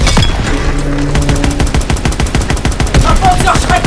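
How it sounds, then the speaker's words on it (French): Rapid gunfire rattles in dense bursts in a WWII video game battle, with a Panzerschreck in the fight, loud and close and nearly continuous with booming impacts. "Un Panzer Schreck nous tire dessus!"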